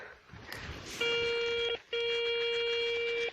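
A metal detector gives a steady electronic tone while hunting for coins and buttons at old sites. Two sustained ringing signals are heard, cut by a short gap, over faint outdoor noise.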